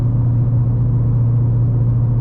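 A 2014 Ford Mustang GT's V8 pulls at three-quarter throttle, a loud, steady low rumble with a strong droning tone heard from inside the car, continuous and without talk.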